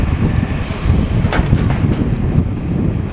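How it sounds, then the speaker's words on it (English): Strong seaside wind buffets the microphone on a wall in Blackpool, a loud continuous low rumble with gusty swells for about three seconds. "Gosh, it's windy."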